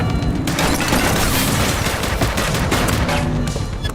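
Rapid bursts of gunfire in The Precinct, a police video game, crackle loudly and continuously with booming shots layered over one another, close and dense throughout with no talk.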